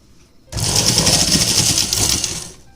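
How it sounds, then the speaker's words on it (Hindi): An electric sewing machine runs a continuous stitch around a round kurti collar, starting abruptly after a quiet moment and whirring loud and steady with a rapid needle rhythm before easing off at the end. "यहाँ से हम इसमें इस तरह से सिलाई लगाएंगे कि जो हमने कपड़े की सिलाई लगाई थी हमारी ये सिलाई इसी के ऊपर से जाएगी"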